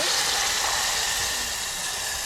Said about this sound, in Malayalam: നമ്മൾ വെള്ളം ഒഴിക്കണം, അല്ലെങ്കിൽ കരിഞ്ഞു.